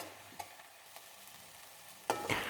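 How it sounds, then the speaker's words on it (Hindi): Chopped tomatoes and onions stirred in a pan for Goan-style prawns, giving soft spoon scrapes at intervals, a louder stir near the end and a faint sizzle underneath, no voices. "टमाटर को अच्छे से मिक्स करके 2 से 3 मिनट के लिए पका लीजिए।"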